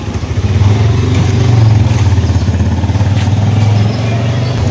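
Motorcycle engines run close by at a crowded roadside stop outside a busy hopia shop, a loud, steady low rumble with pulsing throb and light mechanical clatter, with a faint voice.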